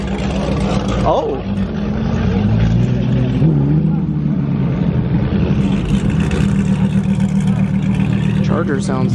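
A turbocharged Dodge Charger engine revs loudly at a car event, with rising and falling pitch sweeps over a rumbling idle, while people talk nearby.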